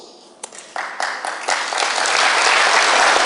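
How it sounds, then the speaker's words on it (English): Applause at a talk by Peter Joseph at London Z Day 2011 starts with a few scattered claps, then swells quickly into full, loud clapping from the audience that keeps building to the end. "You're applauding that?"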